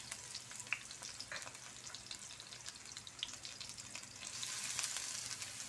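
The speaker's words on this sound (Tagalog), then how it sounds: "Gigisahin natin yung ating sahog." Onion sizzling as it sautés in hot cooking oil for ginataang sigarilyas, a steady crackling fry with scattered pops, swelling louder near the end.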